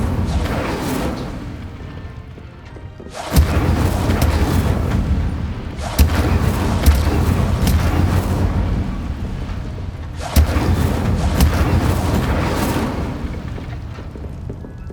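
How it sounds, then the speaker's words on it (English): Incendio fire spell cast repeatedly in the Hogwarts Legacy game, heavy roaring bursts of flame that erupt suddenly several times, each sustained for a few seconds with deep rumbling and hiss, loud and close with no talk. "Setting those flames is certainly different."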